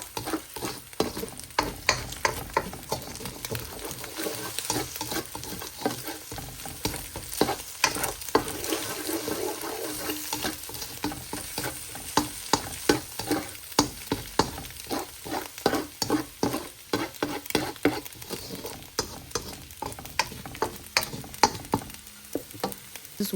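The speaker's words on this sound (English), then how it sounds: "So put in your eggs and stir till scrambled." Eggs scramble in an oiled wok under a continuous sizzle, with a spatula scraping and tapping in a quick, irregular rhythm from start to finish.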